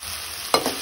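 Banana flower bhaji stirred in a pan, a steady soft sizzle broken by two quick scraping strokes of the spoon near the end, with no talk.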